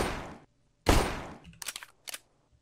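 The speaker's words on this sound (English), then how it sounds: "now I right click and it makes the Glock shot sound" A Glock shot effect from a Minecraft gun mod fires as a burst of bright, punchy cracks, followed by a pause and then two shorter, sharper bursts.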